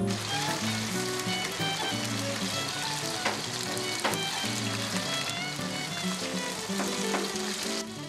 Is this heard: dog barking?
no